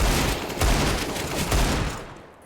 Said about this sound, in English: And a one-tap coming out from Zaka with the deagle